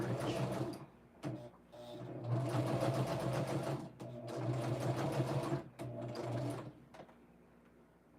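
A sewing machine runs a quarter inch seam on quilt fabric, a close, steady mechanical whir in several runs broken by brief pauses and clicks.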